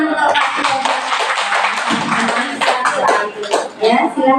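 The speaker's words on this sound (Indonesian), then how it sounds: "tepuk tangan untuk Pak Yoga" An audience of teachers at a school training session applauds Pak Yoga in a short, dense burst of close clapping lasting a few seconds, then thins into a few scattered taps and voices.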